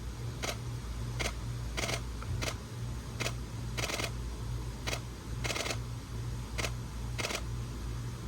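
A camera shutter fires at 1/8000 second during a shutter test, giving about a dozen sharp clicks at uneven intervals over a steady low electronic hum, with no talking.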